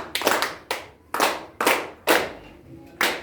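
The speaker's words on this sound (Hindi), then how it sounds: "स्पेशल ताली बजाओ" Schoolchildren doing a special clap in a classroom: a rhythmic pattern of about eight sharp, close hand claps with brief pauses between groups.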